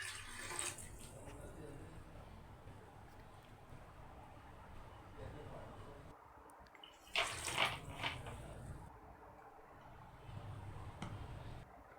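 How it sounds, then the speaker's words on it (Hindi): Water poured into a pot of soaked chana dal with chilies, tomato and onion, quiet splashing and trickling in a home kitchen, swelling into a brief louder pour midway over low background noise. "अब इसमें 3 कप पानी के डालेंगे।"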